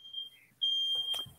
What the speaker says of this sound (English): This is not the first time that Ethan's fire alarm has gone off during a live stream